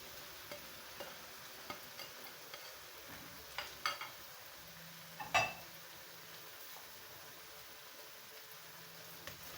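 Okra being stirred into masala in a pan makes a soft, low sizzle with scattered light scrapes and a couple of sharper utensil knocks.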